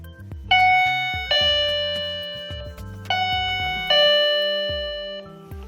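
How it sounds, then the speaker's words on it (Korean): A two-tone electronic doorbell chime from a Kocom 434 video intercom rings twice, each ding-dong clear and ringing out with a slow decay, loud and close. "자, 초인종."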